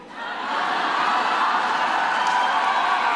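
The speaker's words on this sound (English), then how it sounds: "And the crowd goes wild." A big crowd cheers and roars at a Kamala Harris political rally, a dense, sustained wash of voices that swells within the first half second and then holds steady and loud without a break.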